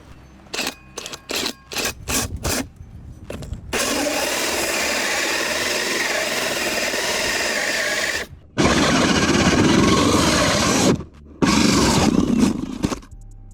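A power drill with a hole saw whirs in a few short bursts, then runs steadily for several seconds as it cuts a soffit vent hole, stops briefly, and buzzes again in two longer stretches.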